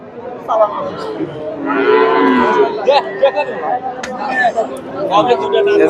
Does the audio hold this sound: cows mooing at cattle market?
yes